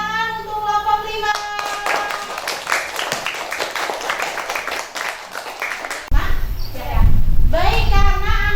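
A class of children claps for group 5 in a classroom, brisk scattered clapping for several seconds with a voice over it, then children's talk and an adult voice take over near the end.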